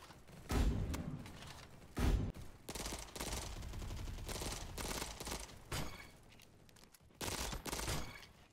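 Pistol gunfire in the online shooter game Bad Business, rapid repeated shots in quick bursts with heavy thumping hits, separated by short gaps, loud and close throughout.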